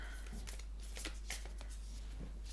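A deck of playing cards being shuffled by hand during a game show, a quiet run of quick riffling flutters and soft snaps, close and low in level with no talking over it.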